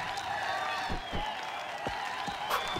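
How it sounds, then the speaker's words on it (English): A crowd in the online game RIFT cheers and claps at a graduation, a soft continuous spread of applause and whoops in the background with scattered sharper claps, faint and distant throughout. "There's cheering in the background."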